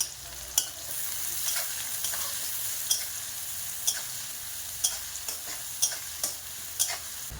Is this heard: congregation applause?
no